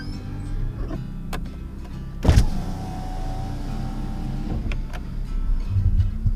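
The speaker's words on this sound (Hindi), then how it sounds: "मैं पहले तो पूरा मिरर खोल देता हूँ।" Electric power windows on a parked car wind open in a hot setting, a steady motor whine running several seconds with a louder thump near the start and faint clicks later, close and clear with no talk.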